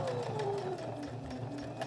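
A home sewing machine runs a steady, close whirring stitch along a fabric seam of a small pouch, using the presser foot edge as the guide, continuous and even throughout.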